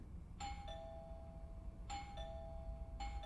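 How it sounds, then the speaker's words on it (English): A doorbell rings in the horror video game Within: a two-tone ding-dong chime heard three times at close range over a low background hum, with no talking. "I should just ring the doorbell, see if he answers."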